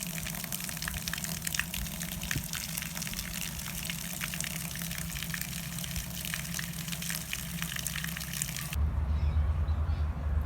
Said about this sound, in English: So I'm going to fill it up with water